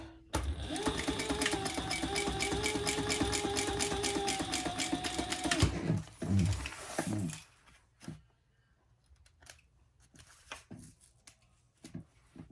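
Sewing machine top stitching a lining and bottom gussets held wrong sides together, running steadily for about six seconds, then stopping and leaving faint handling clicks and rustles.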